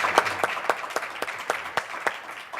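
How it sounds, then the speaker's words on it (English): A conference audience gives a panel on education access a round of applause: a sparse crowd of distinct hand claps, moderately loud and fairly close, spread irregularly across the moment. "can we give a round of applause to our amazing panel?"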